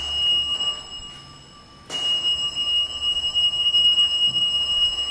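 An alarm panel at a waterworks rings with a steady, piercing tone, briefly quieter before cutting back in louder and continuing unbroken.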